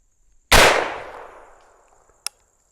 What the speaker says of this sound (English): We're going to shoot one of those across the pumpkin, across the chronograph, into the pumpkin.